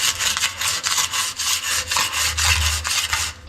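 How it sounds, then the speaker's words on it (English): A cheap metal scraper strips old lime wash from a cave wall in quick, rhythmic, raspy strokes, about a dozen close, loud scrapes in a row with no talking. "It's actually quite easy to scrape, even with this rubbishy scraper."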